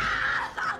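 In a horror film scene, a hysterical woman lets out a shrill, sustained scream that wavers in pitch and breaks off abruptly after less than a second.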